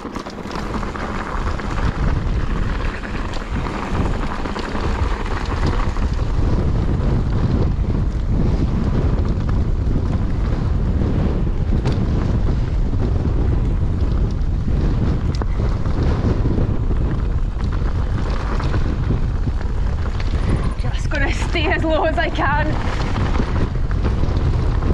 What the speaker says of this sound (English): I'll try not to fly away, it's crazy windy.